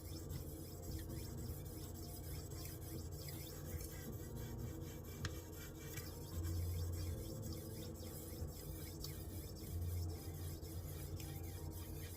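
A knife blade is drawn along the stone of a TS Prof Kadet Pro sharpener in faint, repeated rasping sweeps over a steady low hum, quiet and without talk.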